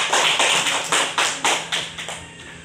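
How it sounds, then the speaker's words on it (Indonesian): Classroom applause for a student presenting group, loud rhythmic bursts of clapping in rough unison, repeating about a dozen times and tapering off near the end. "Berikan tepuk tangan untuk kelompok 1"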